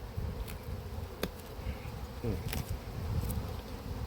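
Honey bees at an open hive in an apiary with fresh pollen coming in, filling the air with a continuous close, low buzzing drone, with a few brief faint clicks and knocks over it.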